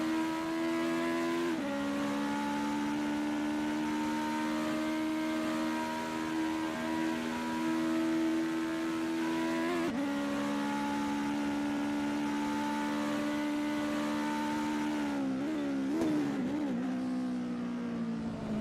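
In a racing video game, a Legend car's engine holds a steady, buzzing high-rev drone at Charlotte, loud and close throughout, dipping briefly around gear changes and wavering near the end before climbing again.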